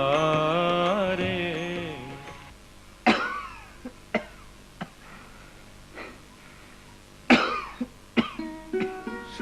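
Repeated harsh coughing bursts, several spaced hacks after a stretch of music or tone, close and fairly loud with short gaps between, from someone whose cough has worsened badly.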